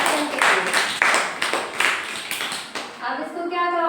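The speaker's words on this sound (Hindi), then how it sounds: "ताली बजा दो भाई इनके लिए।" Several people clap their hands during a children's lesson on telling time, a run of sharp, fairly loud claps in quick uneven rhythm, with a voice joining near the end.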